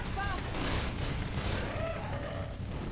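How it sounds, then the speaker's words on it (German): Gunfire during a zombie shooter match in Left 4 Dead 2, a steady wash of distant rattling shots and booms beneath a continuous noisy game soundscape. "Die schießen schon wieder rum"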